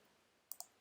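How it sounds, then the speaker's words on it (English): Two quick, sharp clicks of a computer keyboard key being pressed, close and crisp against near silence. "Just hitting Y on the keyboard here to"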